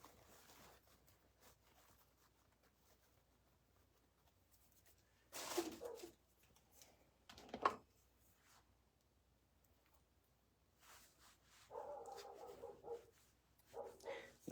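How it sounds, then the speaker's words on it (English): A neighbor's dog barks in short, separate bursts near a hot glue pot while a velvet-flocked blue poinsettia wreath is being made. The bursts come at a moderate distance, with quiet stretches between them and no talk. "That dog, however, is not mine."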